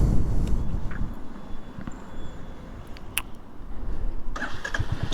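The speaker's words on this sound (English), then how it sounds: "start the engine" A 1981-era motorcycle engine cranks and catches, settling into a rough, throbbing idle up close, with a few sharp clicks along the way.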